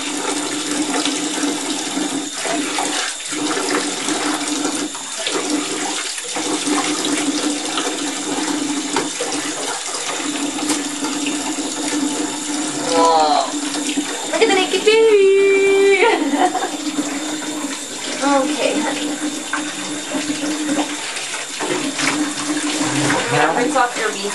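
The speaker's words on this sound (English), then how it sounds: "Okay, splashing you." Bath water splashes around a six-month-old baby in a tub, with continuous sloshing and running-water noise throughout. An adult's voice is briefly heard partway through.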